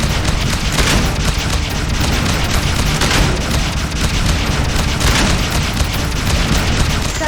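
Torpedo fire from the space combat game Freelancer HD forms a dense, continuous rumbling barrage of booms, loud and sustained with small pulses of extra blast.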